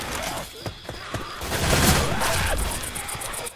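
Rapid gunfire bursts in a shooter video game fighting infected enemies, crackling loudly in close clusters with a sustained volley in the middle, mixed with game effects and a brief voice.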